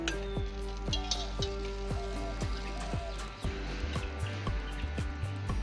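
Eggplant slices frying in a pan give a soft, steady sizzle with rhythmic crackling pops, heard alone at low volume with no talk over it.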